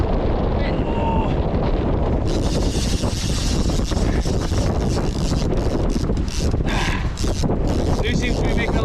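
Strong wind roars across the microphone aboard a sailboat running downwind at about 7 knots in roughly 27 knots of wind, a loud, continuous buffeting rush with water noise beneath, steady throughout.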